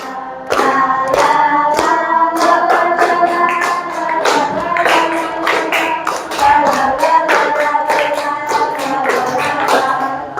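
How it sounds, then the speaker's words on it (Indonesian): A group of participants in an Indonesian Islamic religious education teacher training class claps hands in a steady, brisk rhythm over sustained melodic tones, loud and close throughout with no speech. "Ya, tepuk tangan semua."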